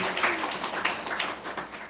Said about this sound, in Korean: 환영의 박수 더 뜨겁게